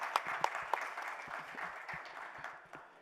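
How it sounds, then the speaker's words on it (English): Faint, thinning applause from a design conference audience, a few sharper claps standing out early before the clapping fades into a quiet room. "Let's have a round of applause."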